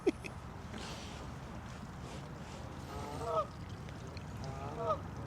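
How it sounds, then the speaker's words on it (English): Geese by a pond give two short honking calls a couple of seconds apart, moderately close, over steady outdoor background rumble. "Talking to the geese."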